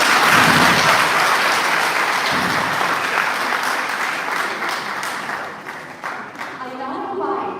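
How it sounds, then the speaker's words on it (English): A lecture audience applauds loudly and steadily, the clapping thinning out toward the end while voices begin to murmur underneath. "A big round of applause for Dr. Corbett."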